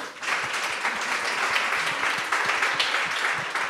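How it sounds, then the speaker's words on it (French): Audience applause at a French conference on healthy eating, dense continuous clapping from a room full of people, fairly loud and steady with no voices over it. "on peut l'applaudir"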